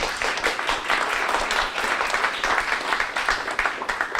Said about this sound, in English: So if you all would join me to give them a round of applause.